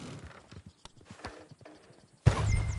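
Horse hooves in Red Dead Redemption 2 clop along in an irregular walking rhythm at moderate distance, and a louder burst of rustling movement cuts in near the end.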